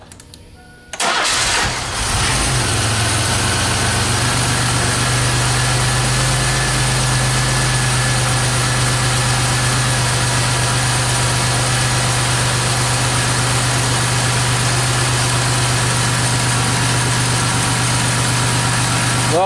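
A 1997 Pontiac Grand Am engine cranks and catches, then settles into a smooth, steady idle that runs loud and close for a long stretch with no talking.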